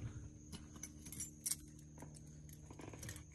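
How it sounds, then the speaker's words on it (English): Car keys for a Buick Grand National jangle faintly in short, scattered bursts, with a brief brighter clink in the middle, in an otherwise quiet space. "Got the keys here,"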